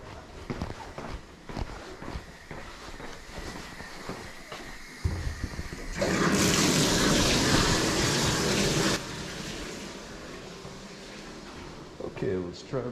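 Water rushes steadily for a few seconds after the household supply is switched back on, loud and close during sewer cleanout plumbing work, with talk and handling noises around it.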